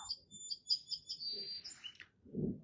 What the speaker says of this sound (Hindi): देखो यहाँ पे चिड़िया पक्षी सब गाना ना सुना रहे हैं मुझे